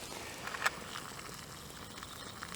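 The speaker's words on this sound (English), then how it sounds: "It's bubbling away nicely now." Water bubbles and simmers in a small pot over a hexamine fuel tablet stove at a wild campsite, a faint, steady patter with a brief louder pop partway through.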